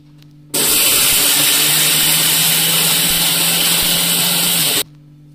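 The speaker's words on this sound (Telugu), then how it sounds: "ఫస్ట్ మనం మిరియాలు, జీలకర్ర వేసుకొని మిక్సీ చేసుకోవాలి" A mixer grinder with a small jar grinds black pepper and cumin coarsely for Tamil sambar. It gives one loud, steady roar for about four seconds, starting and stopping abruptly, with no talk.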